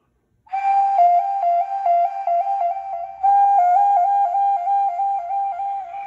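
A small handmade clay whistle plays a bright, pure tone, flicking rapidly between two close notes as a finger hole near the back of the bowl is alternately covered and uncovered, loud and alone, with one brief pause midway.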